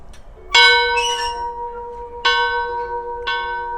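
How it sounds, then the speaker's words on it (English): A bell at an old schoolhouse rings three times, each clear metallic strike ringing out and slowly decaying, with uneven gaps between strokes. "first we have to ring the bell"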